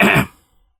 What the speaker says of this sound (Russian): Он начал около него покашливать